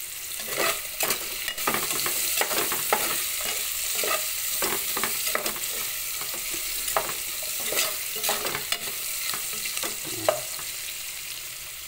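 Garlic sizzling in a pan for mung bean stew, a constant frying hiss broken by repeated scraping stirs of a utensil, close and fairly loud.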